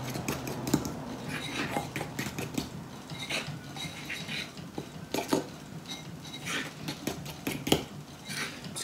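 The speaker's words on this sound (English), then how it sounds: "Okay, hold on. I'll just keep mixing." Banana bread batter is stirred in a bowl, with a steady run of close clinking and scraping strokes from a utensil against the dish.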